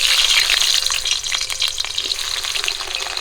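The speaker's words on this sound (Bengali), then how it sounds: "তেলটা গরম হয়ে গেছে আলুগুলো ধুয়ে রেখেছি ভেজে নেব" Steady, close sizzling and crackling of washed potatoes frying in hot mustard oil, continuous and fairly loud, with no voices.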